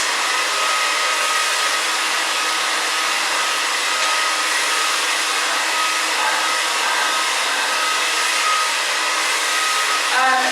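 A hair dryer blows continuously and loudly at close range while hair is round-brushed, a steady broadband roar with no pauses and no voices.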